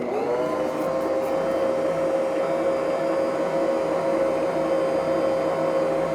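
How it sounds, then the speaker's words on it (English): An electric stand mixer whirs steadily while mixing hot cross bun dough, a constant loud motor drone with a clear tonal hum that holds for the whole stretch, with no talk over it. "So let's get your mixer going here."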